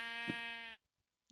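A sheep in the Minecraft video game gives a single loud, clear bleat lasting under a second, followed by near silence.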